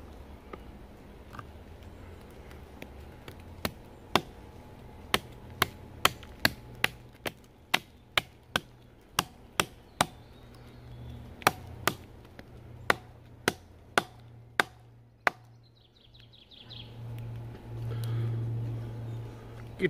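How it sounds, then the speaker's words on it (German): Sharp chopping strikes from a cleaver land one after another in an uneven rhythm, loud and close, then stop, leaving a low rumble behind. "Geht prima als Hackmesser."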